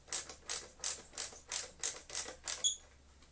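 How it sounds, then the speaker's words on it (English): A screwdriver bit turns screws on a 1920 P A Geier Royal machine, making eight evenly spaced, crisp ratcheting clicks close up in a steady rhythm before stopping with a brief metallic ring. "This screwdriver bit is actually pretty perfect for this machine."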